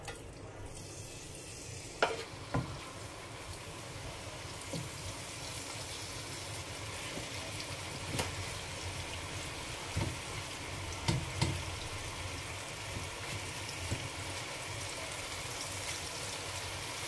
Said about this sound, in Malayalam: ഇനി ചിക്കൻ വറുത്തെടുക്കാം.